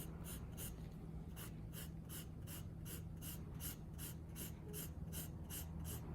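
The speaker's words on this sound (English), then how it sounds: "I'm gonna try 5H. You can hear the difference. It's a medium dark pencil. Makes a really fine line." A 5H pencil draws fine hatching lines on paper: a regular series of short, crisp scratching strokes, close and evenly spaced, with no talk.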